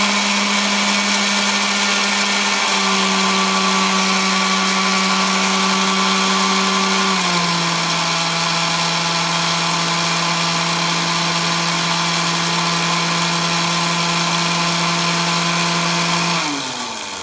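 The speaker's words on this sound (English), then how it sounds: "It's about as fast as this drill motor will go. It's a 9-volt motor" A small 9-volt drill motor spins at top speed, a loud, steady close whine with a sustained hum that shifts pitch slightly a couple of times before beginning to wind down at the end.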